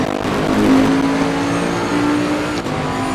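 A Bentley Continental GT3 2018 race car engine in a video game drones at high, steady revs at full throttle on the Kyalami straight, loud and continuous, with a faint whine rising briefly near the end.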